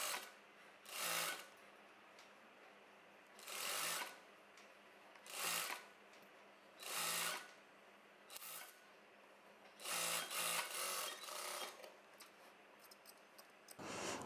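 A sewing machine stitches an extra lining piece to the wrong side of a blouse sleeve, running in several short, loud bursts separated by brief pauses, with no talk.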